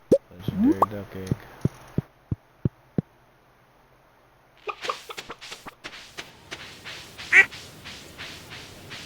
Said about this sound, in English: let's go find this duck